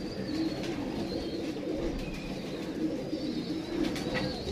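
Pigeons coo steadily in a pair, soft throaty warbling repeating close by over a low background murmur of other birds, with no talk.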